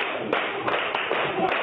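Audience clapping at a Joy FM Fantastic Four Tour event: a dense, steady wash of many hands with a few sharper claps standing out, continuing for the whole short stretch.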